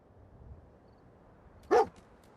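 A single short bark from Dogmeat, the dog companion in the Fallout 4 video game, rings out sharply and close over faint quiet game ambience.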